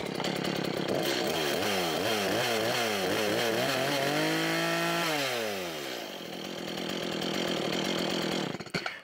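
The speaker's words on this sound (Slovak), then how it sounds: "Každá reťazová píla so spaľovacím motorom má oneskorené zastavenie reťaze." A Stihl MS 180 gas chainsaw revs repeatedly with rising and falling engine pitch, holds briefly at high speed, then winds down to idle, loud and close.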